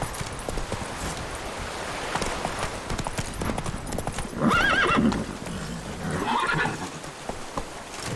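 Roach, a horse in The Witcher 3, trots with rhythmic clip-clopping hooves and lets out two loud neighs midway, set against a busy outdoor game ambience.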